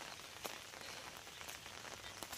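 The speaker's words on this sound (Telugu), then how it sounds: "వర్షం వస్తుంది" Steady rain hissing down on a surface, soft and constant with occasional sharper drops, no voices.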